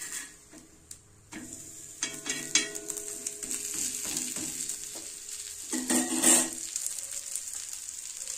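Murungai keerai ragi adai, a drumstick-leaf and finger-millet flatbread, sizzles in oil on a pan, a steady close frying hiss broken by a few scraping spatula strokes, one louder burst near the end.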